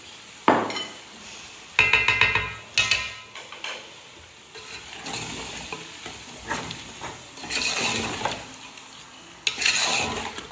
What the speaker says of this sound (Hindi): अच्छे तरीके से 5 मिनट में इसकी भुनाई करूँगी।